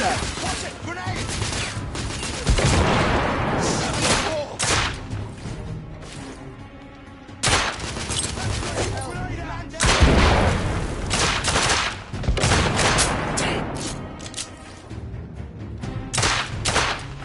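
A grenade blast and bursts of gunfire in the Victorian-era shooter The Order: 1886, loud and dense, with booming impacts and crackling shots rolling across the whole stretch while voices shout over the combat.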